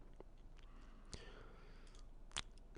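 A computer mouse clicks twice, short and crisp, in a very quiet room: one soft click near the middle and a sharper one near the end.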